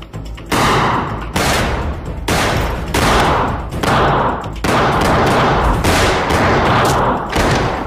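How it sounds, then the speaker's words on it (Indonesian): A shootout scene from an Indonesian film fills with loud, repeated bursts of gunfire, each lasting about a second and separated by short gaps, with heavy thumping impacts. "Namun pada saat mau kabur, terjadilah baku tembak."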